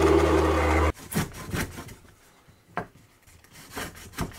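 A small LEGO-built power saw cuts wooden pieces in a series of short, rasping bursts after a loud initial stretch of motor noise, heard close up with no talking.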